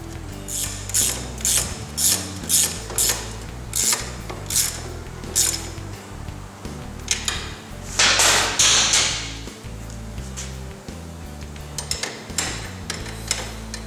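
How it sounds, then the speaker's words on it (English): Ratcheting wrench clicks in quick bursts as nuts are tightened on the upper and lower ball joints of an ATV during a CV boot replacement in a shop, with metallic tool handling, close and fairly loud, no talking. "Now we'll install the nut for the upper ball joint."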